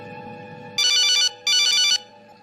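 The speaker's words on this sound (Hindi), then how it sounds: "इंस्पेक्टर साहब, फोन उठाइए ना।" Two bursts of an electronic telephone ring, each about half a second, sounding in a quiet indoor room with a low hum beneath; no one speaks.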